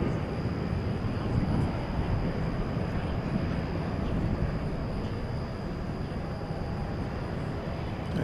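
American Airlines jet taking off from runway 18 Left at DFW Airport at night, a steady broad engine roar with low rumble, sustained and fairly loud throughout without talk.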